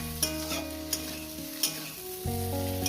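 Fenugreek greens hit a hot pan for a home-style chorchori and sizzle steadily, with a few stirring scrapes and clatters over the continuous frying hiss.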